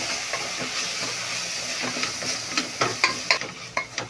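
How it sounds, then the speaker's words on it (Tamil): Curd being stirred into chicken biryani masala in a pan, a steady sizzle with scraping spoon strokes that grow more frequent and pronounced toward the end, close and alone. "அடுத்து தயிர் ஊற்றிக்கலாம் இதெல்லாம் கிண்டி விட்டுக்கலாம்"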